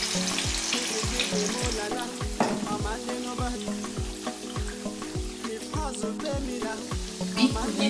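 Plantain pieces frying in hot oil for Ghanaian kelewele, heard as a soft, steady sizzle with faint popping. Quiet background music plays throughout.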